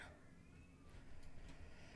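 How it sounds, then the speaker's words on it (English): Fifi the pet cat lets out a short meow, close by and fairly quiet, over a low background rumble with no talking. "what's your problem, cat?"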